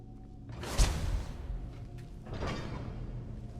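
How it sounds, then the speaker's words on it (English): Doors opening and closing in the video game Skyrim, two broad whooshing door sweeps with a thud at the first, moderately loud over a low background drone. "You didn't hear those doors?"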